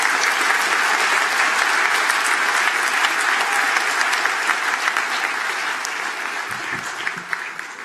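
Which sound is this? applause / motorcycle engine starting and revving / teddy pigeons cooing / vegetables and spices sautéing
applause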